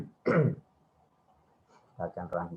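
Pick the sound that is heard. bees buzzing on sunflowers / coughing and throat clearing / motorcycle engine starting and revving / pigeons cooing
coughing and throat clearing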